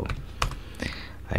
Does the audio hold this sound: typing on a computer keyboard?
yes